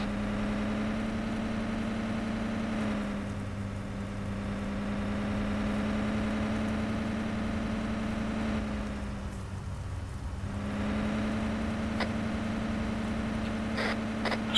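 A car engine idles with a steady low hum and drone inside the video game Arma 3, constant and fairly close throughout, with no speech and a brief dip partway through.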